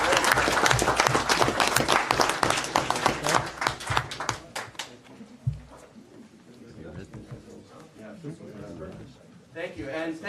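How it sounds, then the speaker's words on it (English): A council meeting gives a round of applause for a youth team's two coaches: loud, dense clapping from a roomful of people for about four seconds, fading out before a voice starts speaking. "let's give a great round of applause for your coaches"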